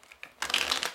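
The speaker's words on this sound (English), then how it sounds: "Wait, more shuffling." Magic: The Gathering cards being shuffled, a few soft taps followed by a dense, close riffling burst lasting under a second.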